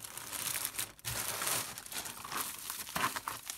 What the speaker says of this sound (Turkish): Şimdi bu son paketi açıyorum